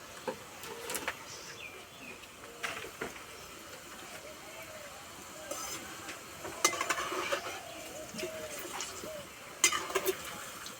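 Homemade kurkure fry slowly in oil over low heat, a soft intermittent crackle and bubbling with scattered clicks of a utensil against the pan, fairly faint throughout.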